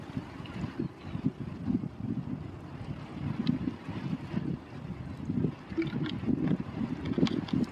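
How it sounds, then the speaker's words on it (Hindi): Strong midday wind gusting outdoors and buffeting the microphone, a continuous rough low rumble with uneven swells and no speech. "बहुत तेज हवाएं चल रही हैं"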